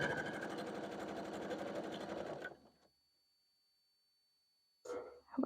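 A sewing machine runs in a fast, even stitching rhythm while piecing quilt blocks, then stops abruptly, leaving silence before a brief burst of quiet talk at the end.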